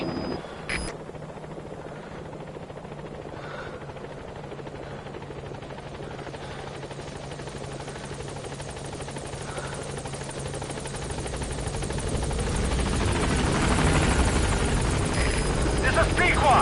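Pequod helicopter in Metal Gear Solid V arriving at a landing zone: a continuous rotor thrum that grows louder toward the end as it nears, with a brief sharp click near the start.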